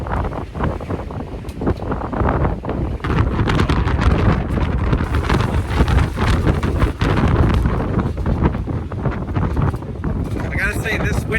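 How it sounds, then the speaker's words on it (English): Strong wind in New York buffets the microphone in loud, rumbling gusts throughout, with a constant roar that swells and eases slightly. "It's freaking windy."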